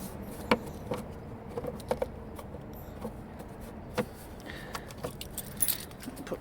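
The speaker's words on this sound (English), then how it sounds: "Put my keys in my pocket." A bunch of keys jangling as it is pushed into a pocket, a series of sharp metallic clinks and rattles at an irregular pace, close and moderately loud over a quiet background hum.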